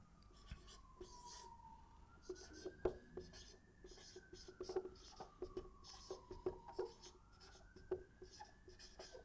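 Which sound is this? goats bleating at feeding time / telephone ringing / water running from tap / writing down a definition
writing down a definition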